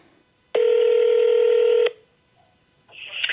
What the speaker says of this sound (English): We are being connected to Maria right now.